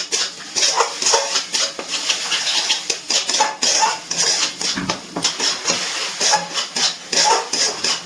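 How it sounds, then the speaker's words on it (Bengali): Raw chicken being mixed with spices in a bowl for a chicken chop, giving close, repeated soft rubbing and clinking of utensil against the bowl in an uneven rhythm, with no talk. "খুব ভালো করে চিকেনটা মশলার সাথে মিশিয়ে নিচ্ছি।"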